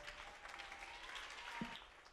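Steady applause from a crowd, a continuous wash of many hands clapping throughout, fairly distant and even in loudness.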